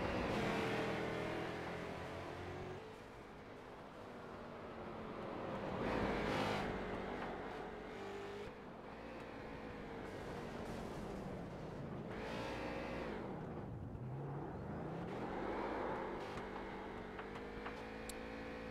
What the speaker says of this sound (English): a happy burnout here from Kyle Souza